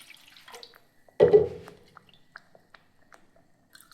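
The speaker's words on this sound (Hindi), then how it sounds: "ये लीजिए और पानी डाल दिया" Water is poured into chutney on a grinding stone as one brief, close wet splash and gurgle, followed by faint small drips and taps in an otherwise quiet setting.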